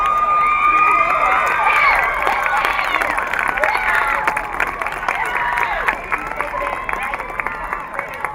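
Homecoming court crowd at Irmo High School cheering, shouting and applauding loudly and steadily, with high voices and whistles over dense clapping throughout.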